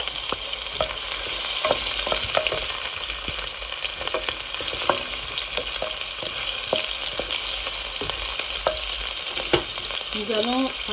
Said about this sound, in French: Nous allons mettre un peu d'huile et nous allons ensuite y mettre les oignons.